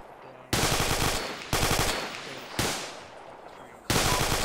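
Bursts of loud machine gun fire in the Arma military video game, four long sustained volleys separated by short pauses, close and dominant with no talk.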